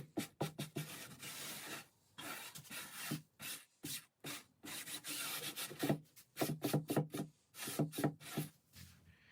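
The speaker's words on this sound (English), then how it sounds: "I remove any sanding dust and thoroughly degrease the surface to ensure a clean bond." Cloth wiping and rubbing over a sanded pump foil board surface while degreasing it, a close, steady series of quick back-and-forth strokes in rhythmic bursts with brief pauses.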